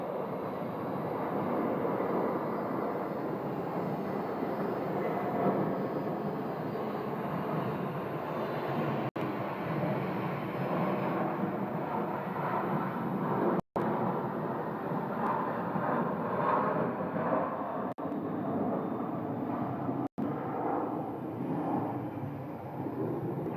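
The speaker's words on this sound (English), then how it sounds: "what looks like a American landing, 737-800" An American Airlines Boeing 737-800 airliner comes in to land, a loud, steady broadband jet roar that holds throughout with rumbling low end and wind buffeting, with no voices.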